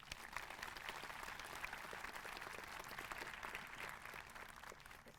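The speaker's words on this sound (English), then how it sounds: "Can we give them one more round of applause?" An audience at a Denison University class induction ceremony applauds, a dense, sustained round of clapping filling the hall at moderate distance, with no voices over it.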